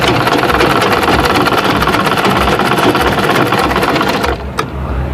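A sewing machine runs steadily, stitching crinoline to the hem of an evening dress with a chapel train. Its close, loud mechanical hum continues unbroken until it stops just before the end.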